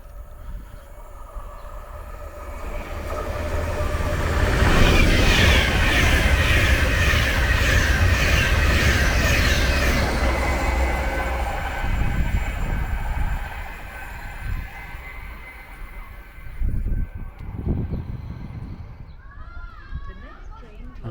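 A train passes through the platform at Leyland railway station, swelling into a loud roar with rattling wheel noise, then fading into quieter platform ambience with scattered knocks and some faint chatter.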